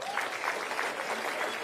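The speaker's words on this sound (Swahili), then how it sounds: "Mpigie makofi" Audience applause at a tree-planting day gathering, continuous dense clapping from many hands, steady and moderately loud with no talk over it.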